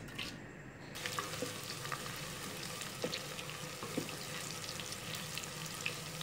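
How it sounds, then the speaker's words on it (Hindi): Finely chopped medium onions fry in cooking oil in a pot while being stirred, a soft continuous sizzle broken by light spoon scrapes and clinks, close and fairly quiet with no talking. "प्याज गोल्डन ब्राउन हो रहे हैं, साथ साथ आपने मुसलसल चम्मच हिलाते रहना है"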